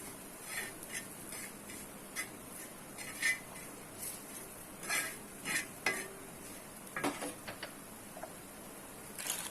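Quiet stirring of kebab masala mixed with salt, a spoon scraping and tapping against a bowl in soft irregular strokes, with faint sizzle behind.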